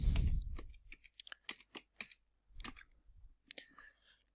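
Computer keyboard keys pressed while building a multilevel list in Office 365, ending with the Enter key; a string of sharp, close clicks taps out at an irregular rhythm, some louder than others, with no talk over them.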